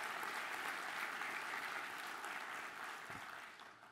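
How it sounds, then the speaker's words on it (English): An audience at a DevOps talk applauds steadily, a dense wash of clapping that holds strong and then begins to taper off toward the end. "let's give a big round of applause for John Willis, please."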